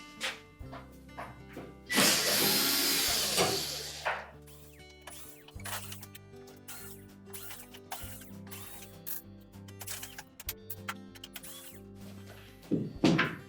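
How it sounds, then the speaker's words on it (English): Screws removed from the upper access panel of a Whirlpool electric range, with a whirring power screwdriver burst, ratcheting clicks and light metallic knocks and taps on the sheet-metal panel, close and quiet. "we're going to remove the screws that secure this upper access panel"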